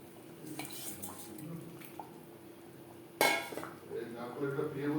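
Fried koi fish pieces added to a simmering curry gravy with potatoes in a pan, heard as clinks of a utensil against cookware with a sharper clatter partway through, plus quiet kitchen noises and a little talk.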